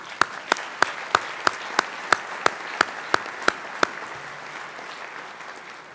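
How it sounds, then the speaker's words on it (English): Audience applause at a medical association meeting: a soft sustained wash of clapping with one nearby pair of hands beating a loud, regular rhythm over it, about a dozen sharp claps, before the crowd sound settles. "Round of applause."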